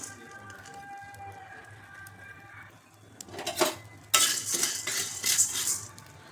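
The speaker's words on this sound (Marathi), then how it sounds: "कढई ठेवलेली तापण्यासाठी आपल्याला साबुदाणा भाजून घ्यायचा आहे." A spoon scrapes and rattles in a pan as sago is roasted and stirred, the gritty clatter growing louder and busier toward the end.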